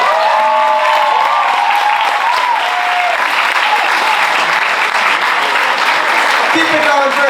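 A comedy show audience gives loud, sustained applause for comedian Hunter, dense clapping mixed with cheers and whoops that fills the whole stretch, and a voice can be heard over the crowd.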